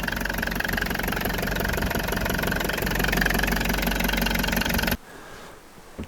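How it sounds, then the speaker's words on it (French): The small engine of a Euramobil Condura double-floor profile motorhome runs in a steady, close, rattly idle, then cuts off abruptly near the end, leaving quiet background. "Le petit moteur, donc."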